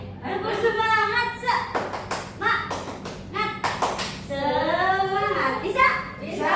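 Children in a classroom performing a rhythmic 'tepuk semangat' clapping chant, voices chanting in unison between bursts of sharp, patterned claps, close and lively, with the claps falling in grouped beats.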